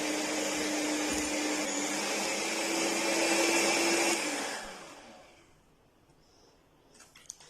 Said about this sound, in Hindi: ये बहुत अच्छी तरह से स्टिक आने तक इसको बीट करेंगे हम